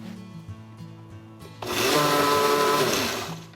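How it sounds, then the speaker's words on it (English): A blender whirs through mango puree with a squeeze of lime, starting abruptly partway in with a loud, steady motor roar that carries on and then tails off slightly at the end; no speech over it. "Okay, I'm going to blend that again."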